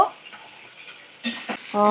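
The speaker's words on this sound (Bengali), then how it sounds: "দিয়ে ভালো করে একটু নাড়াচাড়া করে মিশিয়ে নেব" A utensil scrapes and stirs pasta in a pan in a few short, close bursts, with a faint sizzle.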